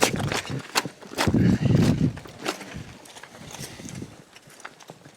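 A gelding colt's hooves moving and stepping on the ground during colt starting, with irregular thudding footfalls, close and fairly loud, and a person speaking briefly in the background.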